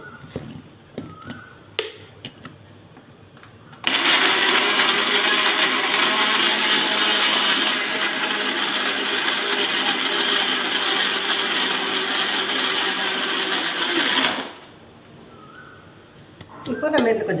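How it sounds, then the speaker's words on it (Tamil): A mixer grinder blending mango roars steadily for about ten seconds, a loud continuous whirring and grinding, with brief clicks and handling sounds before and after. "இப்போ மிக்ஸி பண்ணி எடுத்துக்கலாம்."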